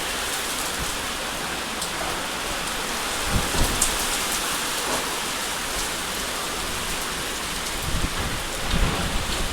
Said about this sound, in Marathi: पावसाचा आवाजच बघा तुम्ही, किती जोरात पाऊस आहे